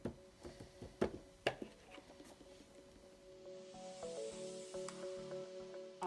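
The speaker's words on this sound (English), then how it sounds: "And then a setting spray." Makeup setting spray gives off a steady, fairly close hiss lasting about three seconds, after a run of sharp clicks and handling knocks, with a soft musical tone running underneath.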